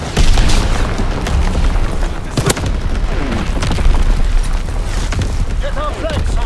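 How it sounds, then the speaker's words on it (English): Artillery barrage in the Call of Duty WWII video game, a loud continuous rumble of booming explosions and scattered gunfire close by, with in-game voices shouting over the din. "Incoming enemy artillery!"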